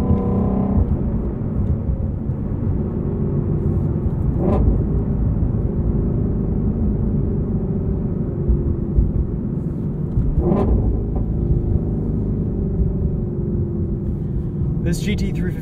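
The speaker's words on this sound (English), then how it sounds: "This GT350R is all about the sound" A 2020 Ford Mustang Shelby GT350R being driven, its engine and exhaust giving a low, steady rumble heard from inside the cabin, with a couple of brief louder swells.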